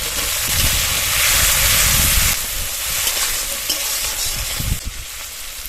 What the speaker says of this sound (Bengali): একটু নেড়ে চেড়ে এর মধ্যে কুচিয়ে রাখা টমেটো দিয়ে দেবো।